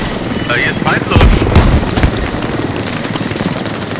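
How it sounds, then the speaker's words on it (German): Enemy helicopter in the Squad video game, its rotor chopping loudly and steadily across the whole clip, with a thicker burst of thumping near the middle and distant gunfire and effects layered under it. "Feind Heli supplyt auf meinem Mark."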